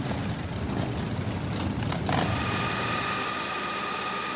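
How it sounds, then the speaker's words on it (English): A steady Harley-Davidson motorcycle engine idling close by, a continuous low rumble with a brief shift partway through, no voices. "But the real test of a Harley is what it sounds like."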